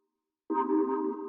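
A sustained synth chord in a minimal house style, thickened by drum bus processing, enters abruptly after a short silence and holds steady and full to the end.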